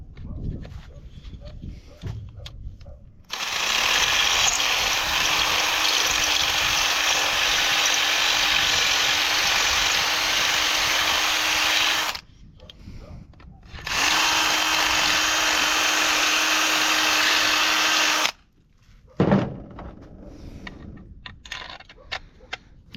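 A power drill bores out a metal lip on a 1969 CJ5 Jeep, running in two long, loud, steady whining bursts with a brief pause between them, then stopping amid clinks and handling noise.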